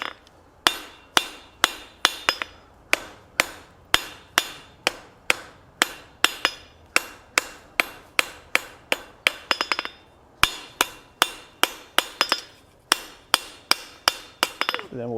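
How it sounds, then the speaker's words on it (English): Hot steel flat stock being forged into a decorative coal rake is struck by a hammer in a steady run of about thirty sharp ringing blows, loud and close, each with a short metallic decay. "We're going to continue to hammer that right on down."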